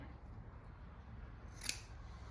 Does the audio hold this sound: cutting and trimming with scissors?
yes